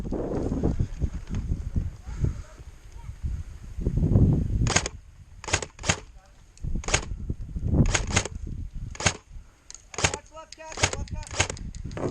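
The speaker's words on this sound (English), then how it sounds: "they're shooting at me" Sharp gunshots ring out in a video game, about a dozen single cracks spaced irregularly in the second half, following a stretch of low rumbling and voices talking.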